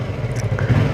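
A Yamaha R3 parallel twin motorcycle engine drones at high revs near 12,500, a steady buzzing note held close and loud through the short moment without any talk.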